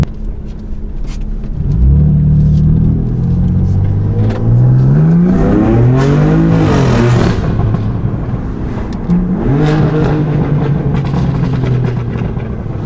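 A BMW M3's exhaust roars up through the gears in Sport Plus mode, the engine note rising and falling in raspy surges, loud and close.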